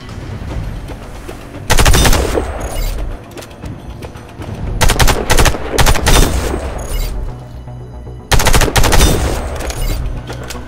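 Shooting at targets in the Warface tutorial. Loud bursts of automatic rifle fire and heavy single shots ring out repeatedly over a constant background hum, with no talk.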